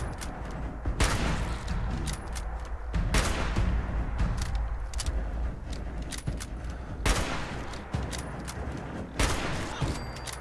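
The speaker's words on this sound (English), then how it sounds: "I'm hitting him with the 30-06 and he's just eating the bullets" Gunfire from a 30-06 rifle in a video game as hogs are shot: repeated loud, sharp bursts crack out one after another in an irregular rhythm, with no voices over them.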